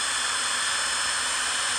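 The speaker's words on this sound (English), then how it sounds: "you see it drilled a pretty decent hole right there" Electric drill powered by an inverter boring a hole, a steady loud high-pitched motor whine running continuously without pause.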